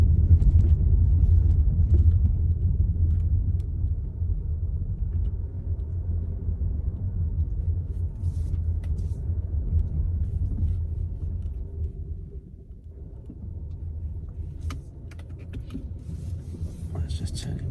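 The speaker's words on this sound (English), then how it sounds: "this is testing the Evoque off-road anyway" A Range Rover Evoque First Edition driven off-road on a cobbled farm road produces a steady low rumble of engine and tyres inside the cabin, with people talking over it.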